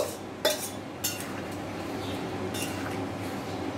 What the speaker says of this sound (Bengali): সব উপকরণগুলো ভালোভাবে দিদি নেড়ে দিল।